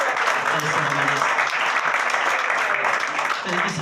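A church congregation applauds in praise, a thick, sustained roar of clapping with a faint voice beneath it, steady and loud from start to finish.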